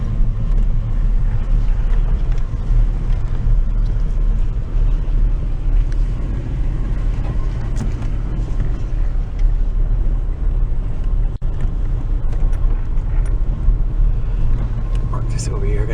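Oldsmobile Cutlass engine idling after sitting five years, a loud steady low rumble held throughout, with people talking over it.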